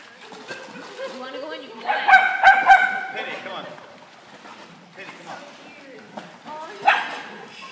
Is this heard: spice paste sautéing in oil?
no